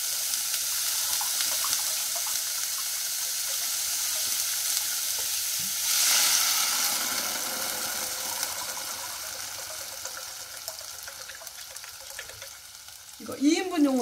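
Water pours into a pot of dried pollack sautéed in perilla oil with garlic, a steady broadband rush that swells briefly in the middle and carries on under faint kitchen clatter.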